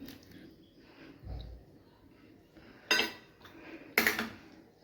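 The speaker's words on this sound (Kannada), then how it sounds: "ಮತ್ತು ಬೇಯಿಸಿಟ್ಕೊಂಡಿರೋ ತರಕಾರಿನ ನಾನು ಆ್ಯಡ್ ಮಾಡ್ತಾಯಿದ್ದೀನಿ" Boiled vegetables tip into a pot of vegetable sagu, giving two sharp clattering metal knocks of pot and utensil against a quiet kitchen background.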